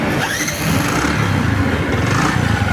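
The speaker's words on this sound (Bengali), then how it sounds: "সেলফটা দিই মামা গাড়িটা স্টার্ট করি" Bajaj Platina 100cc motorcycle started with the electric self-start, a short crank catching into a steady close idle rumble.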